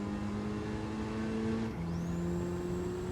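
Porsche Cup race car engine in a racing video game holds a steady high drone, then shifts pitch sharply partway through as revs change, loud and continuous with no voices.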